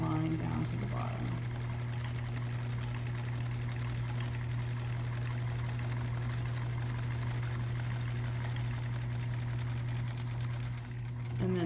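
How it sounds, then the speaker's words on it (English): A sewing machine back-stitches a backpack pocket with a steady, close mechanical hum and rapid needle chatter running throughout, briefly easing near the end. "she's gonna back stitch right here so it's nice and strong"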